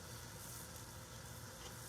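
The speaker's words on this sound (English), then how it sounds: "listen to it. It's sizzling like crazy" A pan sizzles over a fire after steaks have been cooked in it. The sizzle is a quiet, even, broadband hiss with fine crackle, steady throughout and heard alone.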